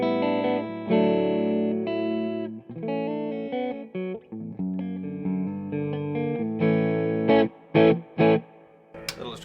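A PRS SE CHLEO electric guitar played through distortion on its neck humbucker, sustained thick chords and single notes ringing out with a woolly, slightly muddy tone, ending in a few short stabbed chords.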